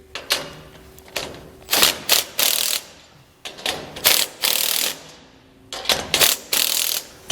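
A ratchet socket wrench tightens the bolts on a Malone TopTier load bar plate in repeated bursts of crisp, close clicking, three clusters of quick ratcheting strokes with short pauses between them and no talking.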